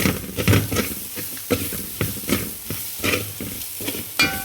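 Mustard seeds crackle and splutter in hot oil in a home kitchen pan while being stirred, with repeated scraping strokes and a steady sizzle, close and moderately loud.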